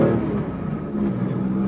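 1976 Porsche 911 with a 2.7 litre engine revving, a strong raspy flat-six roar that rises in pitch, close and loud throughout the short burst.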